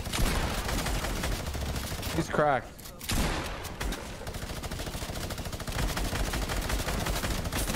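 Gunfire in Fortnite, dense rapid shots crackling continuously under game noise, with a brief dip partway through as a voice speaks a few words.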